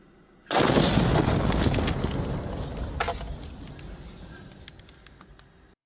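Rocket that had been burning in a city square explodes in one sudden, loud blast that rolls and decays over several seconds, with faint crackling and debris afterward.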